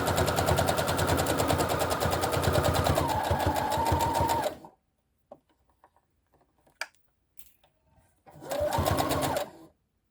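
A sewing machine stitches down toward the underarm seam of a Picasso Top after the armhole, running loud and steady for about four seconds, then near silence, then a second short burst.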